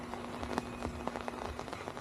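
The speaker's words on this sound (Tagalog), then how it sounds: "Ulan, maulan, guys." Steady rain falls on an open plot of land, a continuous dense patter with scattered distinct drops close by, with no talking.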